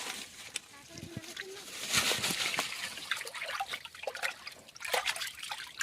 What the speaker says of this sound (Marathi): 200 लिटर पाणी घ्यायचं एका ड्राममध्ये